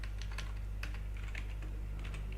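Fingers type code on a computer keyboard in quick, uneven bursts of crisp key clicks over a steady low hum, close and fairly quiet, with no talking.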